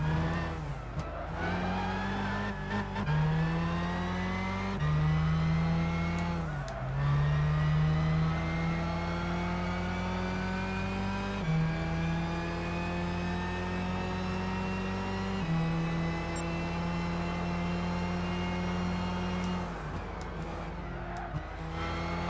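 Race car engines in Gran Turismo 6 drone steadily through a long race, with pitch climbing under acceleration and dropping sharply at each gear shift, repeated over and over, loud and continuous with no talking.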